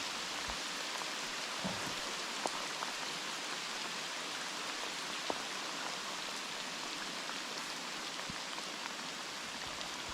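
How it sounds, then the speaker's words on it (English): Heavy rain pours steadily onto a rising river under a bridge, a dense even hiss of drops with occasional sharper splashes and no voices. "the rain is really starting to come down heavy"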